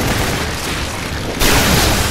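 A grenade blast in a video game: a sudden loud boom that jumps in level partway through and holds as a dense, sustained roar over steady game noise, with no talk.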